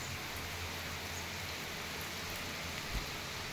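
Heavy rain falls over village farmland as a steady, even hiss with no breaks, fairly faint and distant, with one small thump near the end.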